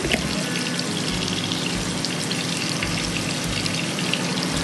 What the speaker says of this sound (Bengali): এখন আমি এটাকে সুন্দর করে নেড়ে চেড়ে তেল ফোটা পর্যন্ত অপেক্ষা করব